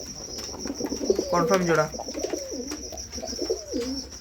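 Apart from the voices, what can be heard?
red Siraj pigeons cooing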